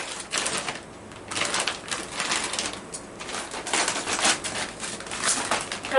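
A paper feed sack has its bottom cut off during shop floor repair, giving close, crinkly paper rustling and crunching with uneven cutting noises throughout.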